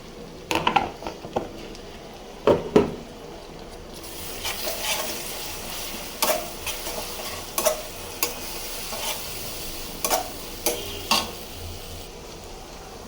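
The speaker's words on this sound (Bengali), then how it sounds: "একটু ভাজা হোক।" Ginger garlic paste fried in a pan for khichuri, a low sizzle under repeated close scraping strokes of a spoon stirring against the pan, roughly one stroke every second or two, with no talk.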